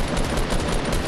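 Rapid gunfire in Fortnite Battle Royale, a dense, loud burst of automatic shots filling the whole moment with no pause.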